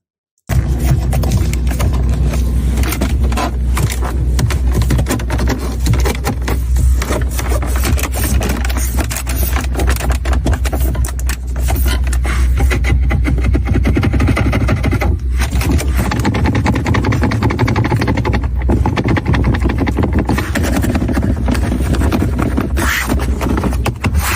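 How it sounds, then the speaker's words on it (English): A Ford F-150 Platinum pickup truck engine runs loud and close, a continuous low rumble mixed with rough scraping and rattling noise throughout, with no talking. "Ford F-150 Platinum sounds like this."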